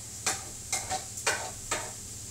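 Sausages sizzling in a frying pan, with four or five sharp scraping clatters as they are turned over a steady low hiss.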